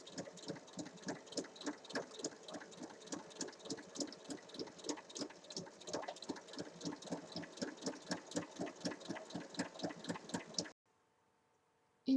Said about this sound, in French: on va faire une surpiqûre sur tout le tour du sac à 1 mm.